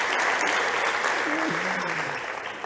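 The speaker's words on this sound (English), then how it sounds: "Big applause to them" Crowd at a startup competition stage applauds the jury in a dense, steady wash of clapping, briefly overlapped by a faint voice, and tapering slightly near the end.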